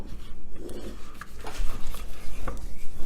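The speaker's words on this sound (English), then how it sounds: "So I'm going to finish scraping down the bowl" A spatula scrapes down the sides of a mixing bowl of Southern pound cake batter, giving soft, close rubbing and scraping strokes in a quiet kitchen.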